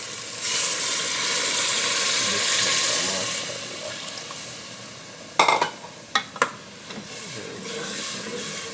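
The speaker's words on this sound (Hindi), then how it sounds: "अब इसमें डालेंगे हम यखनी। ये हम यखनी डाल रहे हैं एक बॉल।" Yakhni stock is poured into fried masala for white chickpeas, giving a loud, steady hiss and sizzle close by. The sizzle fades, then a few sharp clatters and stirring knocks follow near the end.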